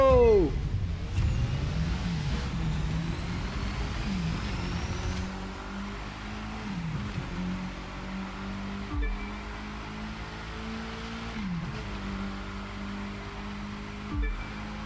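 A KTM X-BOW R racing in The Crew 2 street races, its engine droning steadily with repeated gear-shift dips and rises, a continuous close motor sound over a long stretch.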